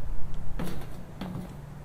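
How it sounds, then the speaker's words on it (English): A door in the horror game Stairs slides shut in two separate movements about half a second apart, each a rising mechanical swish with a low hum under it, heard up close against a quiet ambient drone. "Oh, the door just closed."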